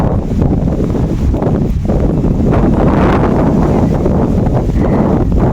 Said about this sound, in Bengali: কত হাওয়া হচ্ছে